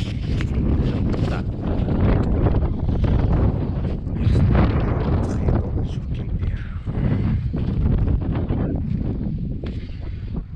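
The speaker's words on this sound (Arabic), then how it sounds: "نحاولوا نتسناو شويه الريح" Strong desert wind in Mauritania buffets the microphone with loud, continuous roaring gusts and rustling that fill the whole stretch without letup.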